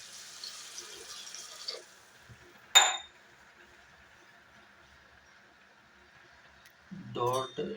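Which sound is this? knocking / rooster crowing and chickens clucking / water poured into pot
water poured into pot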